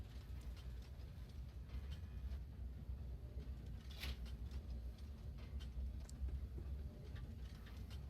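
Passenger train moving in the video game Train Valley 2, a faint steady low rumble with light mechanical clicks and ratcheting ticks, no voices.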